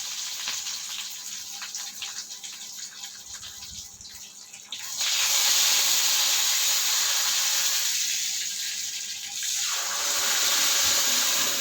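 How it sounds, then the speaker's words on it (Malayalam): Dried red chillies and curry leaves dropped into hot oil while tempering for chutney, a soft hiss that suddenly swells into a loud, steady sizzle and then stays strong, swelling once more near the end, no voices. "അതിലേക്ക് വറ്റൽമുളകും കറിവേപ്പിലയും കൂടെ ഇട്ട് കൊടുക്കുക."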